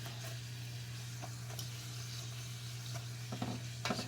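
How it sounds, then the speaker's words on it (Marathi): Spinach puris deep-frying in hot oil, a steady close sizzle and bubbling throughout with a low hum beneath and a few soft clinks of a utensil near the end. "तेल जर असं त्याच्यावरती घातलं की फुगतात चांगलं अशा प्रकारे भाजायचे"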